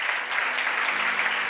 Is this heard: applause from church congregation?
yes